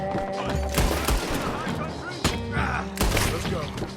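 Rapid gunfire in Red Dead Redemption 2, repeated close, loud shot bursts in sharp clusters mixed with voices talking throughout.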